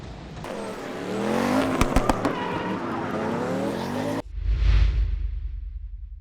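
A race car on a circuit accelerates hard, its loud engine rising in pitch through the gears as it passes near, then cuts off abruptly and gives way to a deep rumbling whoosh.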